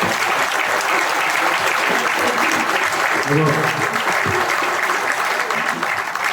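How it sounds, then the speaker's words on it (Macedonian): A crowd at a political party public forum on strokes in Strumica applauds steadily, dense clapping that continues throughout, with some voices mixed in beneath. "за тоа сакам аплауз и поддршка"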